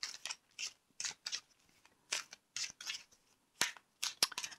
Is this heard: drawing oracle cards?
yes